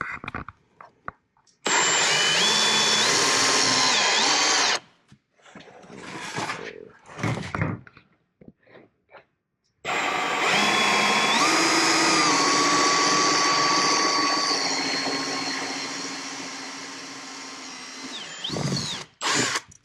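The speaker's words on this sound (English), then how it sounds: "So we drilled a 3/4 inch hole for all of our round lights" A power drill whines loudly in two long bursts, drilling 3/4 inch holes for round lights on a Polaris Ranger 1500, the second running about eight seconds with a steady high-pitched motor tone, separated by quieter clattering.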